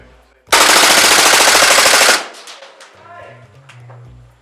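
An ASG/KWA M93R II airsoft pistol on green gas fires one loud, rapid full-auto burst of about a second and a half at close range, followed by quieter handling clicks and a voice.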